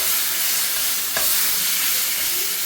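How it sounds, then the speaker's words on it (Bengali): Taro leaves (kochu shak) frying in a pan and being stirred: an even, dense sizzle throughout with one brief scrape of the spoon partway through. "ভাজা ভাজা করতেছি, কচুর শাক হলো যত ভাজা করা যায়।"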